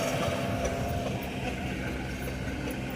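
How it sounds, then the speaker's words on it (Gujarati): A train rumbles past somewhere behind, a steady, heavy, low roar with a faint rattle that holds at an even loudness throughout. "જો આ રીતે પાછળ ટ્રેન આવે છે"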